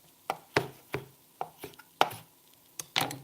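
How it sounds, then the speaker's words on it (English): A knife chops through fennel on a cutting board, about nine sharp, close cuts in an uneven rhythm with no talking. "Chop off the end leaves, then strip the other branches."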